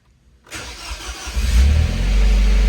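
A Nissan Pulsar turbo car cranks and catches after a moment of silence, its engine building into a loud, steady rumble close by.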